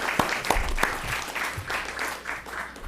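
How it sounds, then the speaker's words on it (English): An audience claps for a panel of five speakers at a discussion session, with distinct sharp claps scattered over a steady wash of applause, moderately loud and sustained with no talk. "we have to clap once more because that was really a tremendous group of 5 speakers."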